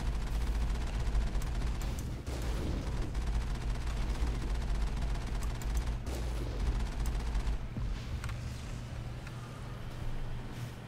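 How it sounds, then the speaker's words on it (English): Rapid cannon fire from a vehicle-mounted gun in Mass Effect, a dense steady barrage of blasts and booms running throughout, loud and continuous with low rumble underneath. "I can just mow this thing down with the cannon"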